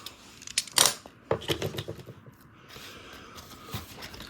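Scissors snip through a short length of double-sided tape cut from a roll, giving a couple of crisp close cuts, loudest near the start and followed by light handling rustle.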